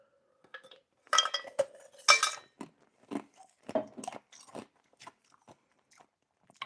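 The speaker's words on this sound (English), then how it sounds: "Chewing on ice is super addictive." Ice being crunched between teeth close to the mic: a dense burst of loud, crisp crunching early on, then scattered sharper bites and brittle clicks at irregular intervals, with no one talking.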